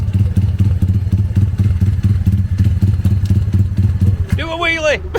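A Honda Monkey motorcycle runs at a gathering, its small engine putting out a steady, close, pulsing putter. Near the end a high whistle-like sound breaks in.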